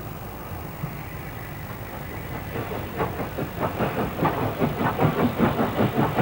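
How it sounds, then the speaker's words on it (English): Southern Schools class steam locomotive 30926 Repton hauls a Pickering-bound train past New Bridge on a moorland railway in North Yorkshire, its rhythmic chuffing and rumble swelling louder as it draws near. "30926 Repton is seen at New Bridge with a Pickering-bound train."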